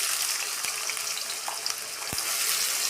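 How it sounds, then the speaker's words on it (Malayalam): Bitter gourd and green chillies fry in coconut oil, a steady close sizzle with bright crackling and occasional faint clinks, heard alone without speech. "നമുക്ക് ഈ പാവയ്ക്കയും ഈ പച്ചമുളകും നല്ല ചുവപ്പ് നിറമായിട്ട് വറുത്ത് കൊള്ളണം"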